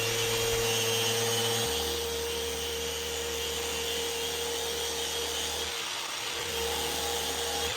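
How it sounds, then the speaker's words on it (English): A steady Festool power sander sanding wood for a bathroom shelf drones on continuously, a loud even whir with a low hum beneath it, dipping briefly near the end before resuming. "I take it over for more sanding with my Festool"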